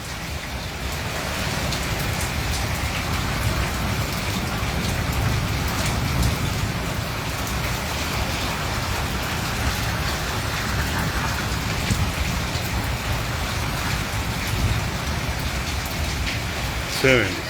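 Heavy night rain pours steadily during a thunderstorm in Islamabad, Pakistan, a dense, unbroken hiss close by that lasts the whole stretch, with a brief louder patch near the end.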